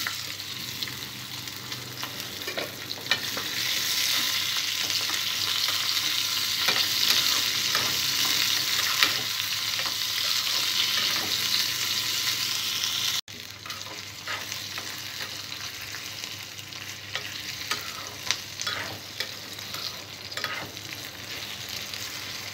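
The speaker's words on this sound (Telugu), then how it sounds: "పచ్చిమిర్చి ఫ్రై చేసుకున్న ఇదే ఆయిల్లో దొండకాయ ముక్కలు కూడా ఫ్రై చేసుకోవాలి." Ivy gourd pieces fry in oil left from frying green chilies, giving a continuous close sizzle with scattered scraping clicks of stirring; the sound drops briefly midway and then resumes slightly quieter.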